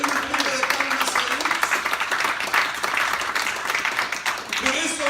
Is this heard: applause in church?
yes